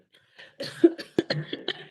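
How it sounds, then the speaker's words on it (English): A few short, harsh coughs and throat-clearing sounds, close and fairly loud, coming in quick irregular bursts. "that's why I'm coughing"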